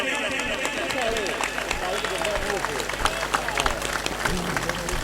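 An audience at a gathering claps in a dense, continuous patter that fills the room, while a voice talks over the applause.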